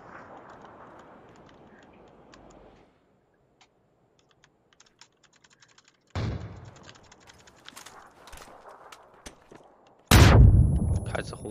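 In a video game, bombardment and gunfire break out in sharp bursts with sudden loud blasts, mixed with steady close keyboard typing and clicking between the explosions.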